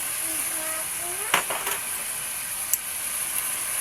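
Garlic and ginger paste frying in a pan for chicken biryani, giving a steady high sizzle with a few sharp clinks of stirring.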